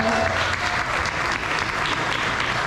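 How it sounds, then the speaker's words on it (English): Steady audience applause for panelists at the close of a WNBA fashion panel, a full, even burst of many people clapping, with a few faint voices and a short whoop mixed in near the start. "Can we give a round of applause for our amazing panelists?"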